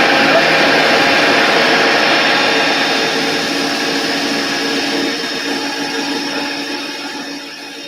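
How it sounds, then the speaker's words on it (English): A blender runs on high, blending cacao powder and vanilla, giving a loud continuous whirring drone that slowly fades slightly over several seconds. "You want to put in the blender and you want to turn it on high or whatever, and just really get it nice and finely chopped."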